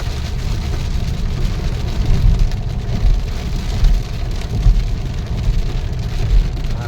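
Steady rain drums loudly on a moving vehicle on the Athani to Bijapur road, with a low road and engine rumble underneath throughout.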